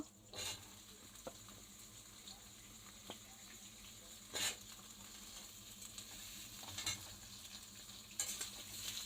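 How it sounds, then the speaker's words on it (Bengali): Pointed gourd and pumpkin pieces frying in a pan, a faint low sizzle with intermittent stirring scrapes and clatters at a quiet level. "এগুলা একটু ভাজা ভাজা করব।"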